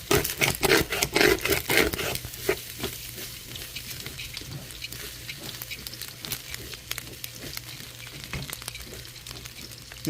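Turmeric fried rice is stirred in a pan with a wooden spoon, quick close scraping strokes over a soft frying sizzle, busier and louder at first, then settling into lighter, sparser scrapes.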